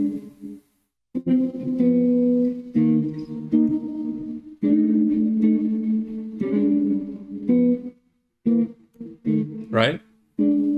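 Jazz guitar plays just two guide tones over a Bb blues, chords sounding one after another in a moderate rhythm with effects-like shimmer, close and clear, pausing between phrases.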